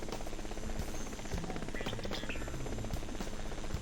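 Steady whirring buzz of a Bell 206B JetRanger helicopter in Flight Simulator X during a volcano rescue mission, continuous and fairly loud throughout with constant rotor and turbine drone, plus a few faint clicks.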